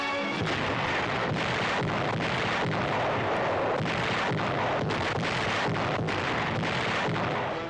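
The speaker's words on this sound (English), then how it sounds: "Night closes down on the Italian front, and Allied guns stab at the Nazis." Allied artillery guns fire at night on the Italian front, a dense barrage of booming blasts and sharp reports in quick irregular succession, loud and continuous with no voices.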